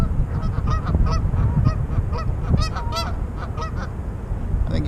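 Geese honk repeatedly from close by, a busy overlapping chorus of nasal calls over a noisy outdoor background.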